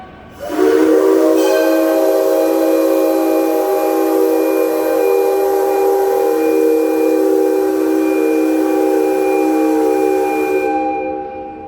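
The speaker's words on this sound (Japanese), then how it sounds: "機関士さんたち、汽笛をお願いします" A preserved steam locomotive's whistle blows loud and unbroken for about ten seconds at a railway museum turntable demonstration, with hissing steam underneath, then cuts off.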